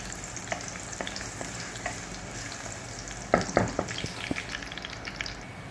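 Garlic for Ilocano-style arroz caldo fries in a pan until brown, a steady close sizzle broken by scraping stirs and a few sharper clatters of the spoon midway, with no talking.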